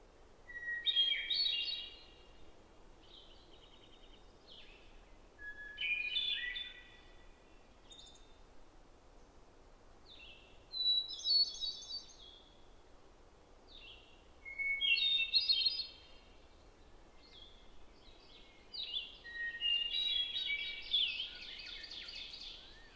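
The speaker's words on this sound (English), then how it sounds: "this hermit thrush sings on his territory, his haunting song casting a spell through the forest" Ethereal, flute-like hermit thrush phrases ring out alone in quiet woods of the Acadian Forest, each song rising and fading with pauses of a few seconds between, moderately distant.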